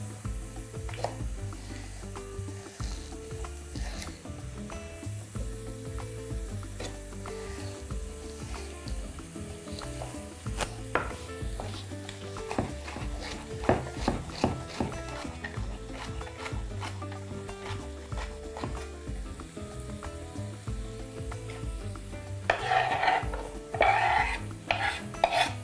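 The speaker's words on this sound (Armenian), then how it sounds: "Սա էլ կտրատենք" A knife chops a single thick celery stalk finely on a cutting board. The cuts come as faint, irregular taps over a steady background rasp, growing busier and louder near the end, with no talking.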